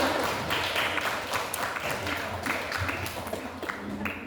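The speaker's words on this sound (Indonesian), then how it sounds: "Beri tepuk tangan lagi untuk dua kelompok tadi." Classroom applause for two student groups, a dense steady patter of many hands clapping close by with a few voices mixed in, running the full length without a break.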